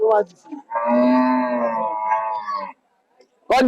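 A cow at a rural cattle market held at a college ground gives one long, loud, close moo, with brief human voices just before and after it.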